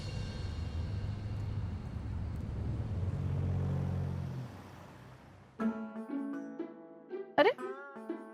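A car engine rumbles steadily at low volume, then winds down and falls silent as the vehicle stops, followed by music.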